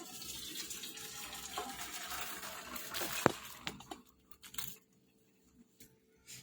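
Water from boiled noodles pours and splashes out of a vessel as it drains, a close, fairly quiet gush that trails off into a few drips and then near silence.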